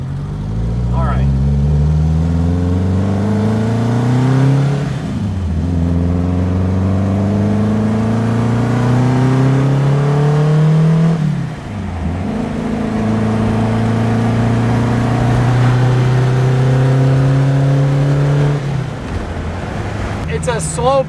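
An early-1980s French turbocharged car accelerates through several gears, engine pitch climbing steadily then dropping at each shift, loud and close from inside the cabin, with no talking.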